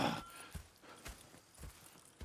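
Hooves clip-clop at a steady walking pace in Red Dead Redemption 2, four or five soft, evenly spaced thuds from a single horse, faint and close, with no talk.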